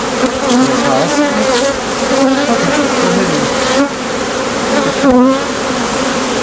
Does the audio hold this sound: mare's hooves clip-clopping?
no